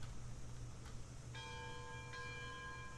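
The locomotive bell of a steam train in Railroads Online rings in repeated metallic strokes, moderately loud over a low rumbling engine and rail noise, with no talk.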